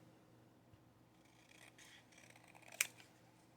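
Big scissors cutting paper for a craft project: quiet, scattered rustling snips, ending in one sharp, close cut near the end, with no talk.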